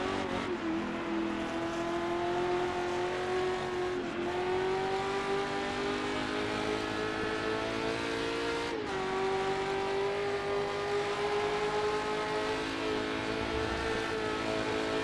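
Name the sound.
race car engine in Assetto Corsa video game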